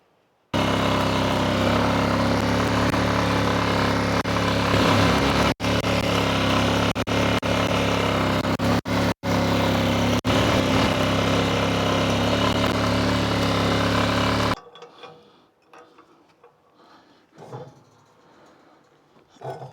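Small engine of a Micro Food Plots MFP-103 Master Series with a chisel plow attached runs loud and steady while tilling grass, then cuts off, leaving quiet rustling.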